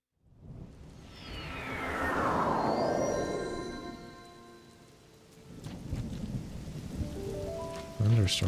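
Thunderstorm in Zelda: Tears of the Kingdom, with steady rain on the ground and a long rolling thunder peal that swells and fades, followed by continued rainfall and a brief game chime near the end.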